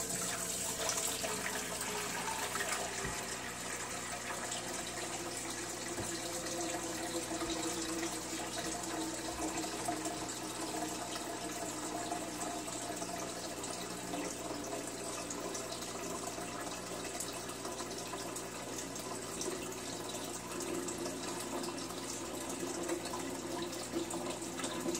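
Water runs steadily through an Aqueon aquarium water changer during a drain test, a continuous even wash of flowing water at moderate level with no pauses.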